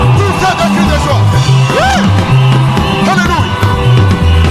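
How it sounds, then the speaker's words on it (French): A church congregation at a revival meeting shouts and cheers for joy, loud overlapping yells and whoops rising over steady worship music with a repeating bass line. "Poussez des cris de joie."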